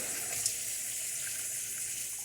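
Tap water running over rocks to rinse sand off them, a steady close rushing and splashing that fills the whole moment with no talk.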